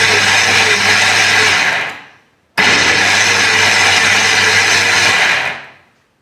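Electric mixer running loudly through basbousa batter with orange juice and milk, two sustained steady whirring bursts separated by a brief stop, close and alone.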